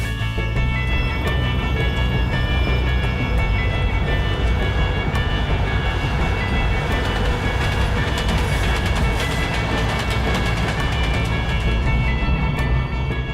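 A passenger train rolls along rails through Siberia, heard from on board as a loud, continuous rumble with rhythmic wheel clatter and rattling carriage noise, steady and close throughout.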